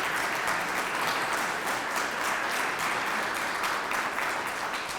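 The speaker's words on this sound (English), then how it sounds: "let's give all of the finalists just another big round of applause" Steady, dense applause from a seated crowd at a teacher of the year celebration, honoring the finalists; a sustained, even wash of clapping that holds at full strength throughout without a break.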